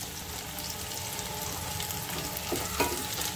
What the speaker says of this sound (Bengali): আলুটা আমি উল্টে পাল্টে একটু ভেজে নেব